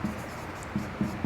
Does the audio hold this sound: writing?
yes